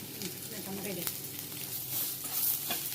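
Poppy seeds, chickpeas and grated coconut frying with cinnamon, pepper and cloves for a mutton gravy, a soft continuous sizzle close by with light stirring scrapes throughout.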